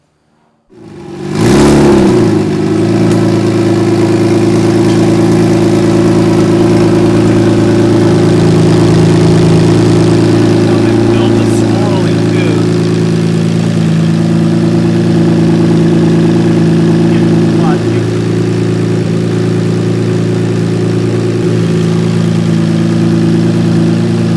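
Twin turbo DeLorean engine fires up and settles into a steady, loud idle with a deep even rumble and a faint whir, running continuously for over twenty seconds.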